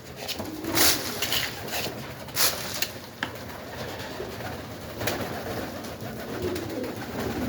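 Soft cooing of pigeons or doves nearby, several overlapping calls, with occasional light knocks and rustles in a quiet space.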